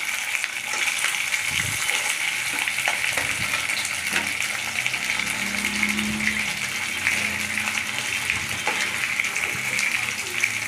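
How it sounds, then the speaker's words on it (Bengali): Litti shallow frying in a little oil in a wok, giving a steady, even sizzle that holds throughout with no pauses. "হালকা একটু ভেজে নেব, শ্যালো ফ্রাই করে নেব"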